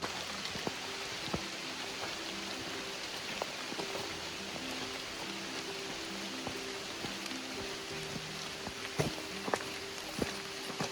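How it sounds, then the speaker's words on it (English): Light rain patters steadily on a hiking trail near Hemmed In Hollow Falls in Arkansas, with soft scattered drops and occasional sharper ticks over a low, continuous wash of background water. "the rain was pretty tame and was not coming down very hard."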